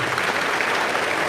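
An audience in a church debate setting applauds steadily, dense and close, a continuous burst of clapping with no voices over it.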